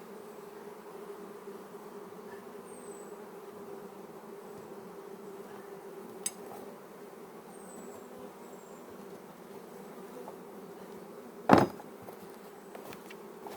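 A small swarm of honey bees taken from inside a wall, a steady low droning hum throughout, with faint passing buzzes and one sharp knock near the end.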